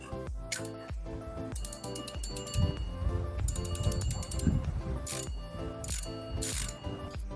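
A PR 7000 fishing reel with a metal washer being cranked, giving close, loud ratcheting clicks and metallic gear whirring in uneven bursts, with bright ticking runs between turns.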